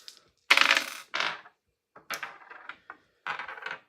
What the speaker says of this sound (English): I'm just going to put the dice here.